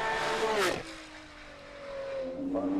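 A Porsche 997 GT2 race car, number 105, on a hill climb course roars past with a rising then falling engine note, followed by a fainter sustained drone and another engine swelling at the end.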